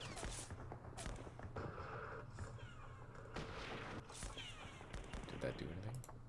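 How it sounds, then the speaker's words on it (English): Gunfire aimed at French troops in the Vietnam war strategy game Campaign Series Vietnam: a dense, quiet mix of crackling shots and dull booms running throughout, with a low steady hum beneath and a voice talking over parts of it. "Let's shoot at them."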